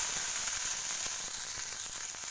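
Chopped onion and fenugreek leaves sauté in a hot pan with a steady, close, bright sizzle and crackle, interrupted by faint stirring taps, with no talking.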